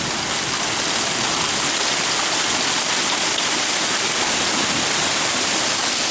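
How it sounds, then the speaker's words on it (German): Hail pounding down during a heavy night thunderstorm, a dense, steady roar of ice hitting surfaces, loud and unbroken throughout with no voices. "Aber das ist gerade voll am Hageln."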